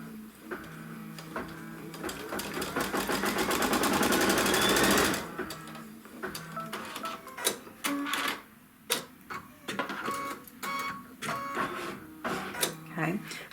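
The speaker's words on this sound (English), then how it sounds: "then it's going to stitch the trim line" A Kimberbell embroidery machine stitches the trim line on a Wallflower quilt block, a loud, fast, steady mechanical whirring for about five seconds, then quieter clicks, taps and handling noises follow.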